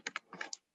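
Quick keystrokes on a computer keyboard, a short burst of about five close, distinct clicks in uneven rhythm, then silence, with no voices.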